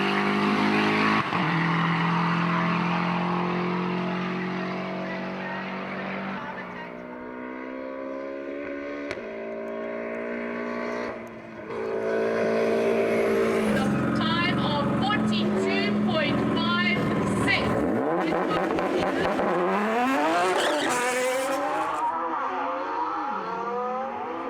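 A Subaru WRX competing in a timed sprint event, its engine droning loud and steady with rising and falling gear-change sweeps, a brief dip near the middle, and some talk over it.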